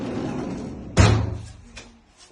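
An interior room door in an apartment in Albal, Spain, shuts once with a sharp, close thump. A shorter, softer knock follows, then the room goes quiet.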